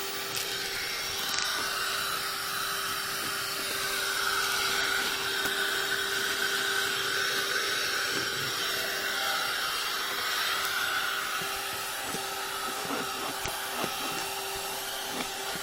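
An Aspiring Dust 2 car vacuum cleaner runs steadily throughout, a loud, continuous whine with a constant motor tone and faint scraping and clicking as debris is picked up, with no talking.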